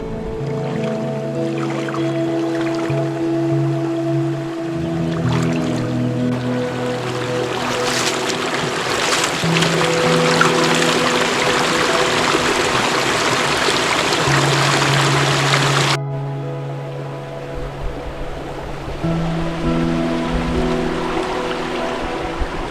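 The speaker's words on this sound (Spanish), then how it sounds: "esto ahora ya se ha convertido en un arroyito" Water flowing steadily over rocks in a stream, continuous and close, with a sustained tonal hum running underneath.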